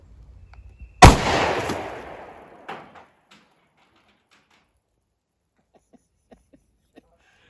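A 9mm Winchester Silvertip round fired into a meat target gives one sharp, loud report that rings out and decays over about two seconds, followed by a few faint clicks and knocks.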